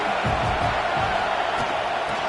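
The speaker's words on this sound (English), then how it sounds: "This crowd bringing the energy and noise early." A stadium crowd roars in a college football video game at a Tennessee at Arkansas matchup, a dense, loud and continuous wash of cheering with faint whoops and no breaks.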